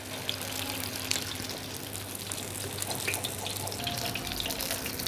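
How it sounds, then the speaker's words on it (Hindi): Water runs steadily from a tap over hands while shaping chapli kebabs, a constant close splashing hiss with a low background hum. "हल्के से हाथों पे आपने पानी डालना है"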